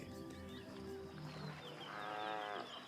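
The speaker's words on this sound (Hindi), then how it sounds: "पानी से रंभाने की हल्की आवाजें आ रही हैं।" Low bellowing moos from a small buffalo herd standing knee-deep in water in Africa rise and overlap, faint and somewhat distant, with a harmonic groan swelling near the end.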